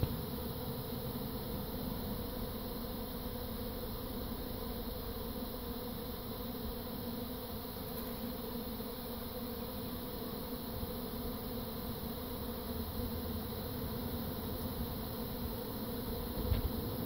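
A honeybee swarm fills the air with an unbroken, even buzzing that stays steady for a long stretch, with a faint knock near the end and no speech.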